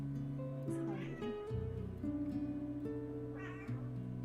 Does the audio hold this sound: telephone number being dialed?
no